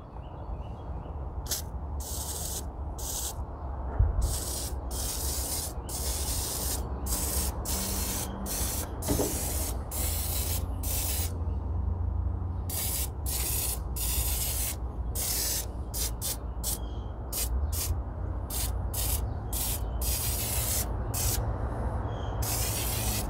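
Gunk degreaser is sprayed onto the valve cover of a Jeep Wrangler YJ engine in a long series of short, close, hissing bursts with brief gaps between them, and no talking.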